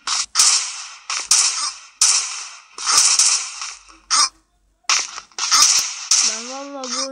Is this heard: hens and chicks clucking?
no